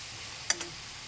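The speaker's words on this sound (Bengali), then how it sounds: "গ্যাসটাকে বাড়িয়ে দিলাম।" A kitchen gas stove knob turns up with a single sharp click followed by a softer second tick, faint against a quiet background.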